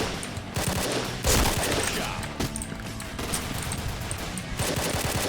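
K2C EBR rifle fire from the video game Point Blank rattles in dense, loud bursts through the whole stretch with only short breaks, layered with other shooting in the game and a faint voice.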